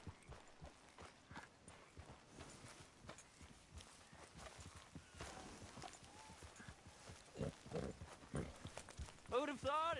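Horse hooves clip-clop steadily in Red Dead Redemption 2 as a horse walks along, a soft rhythmic patter with other game sounds and a voice around it.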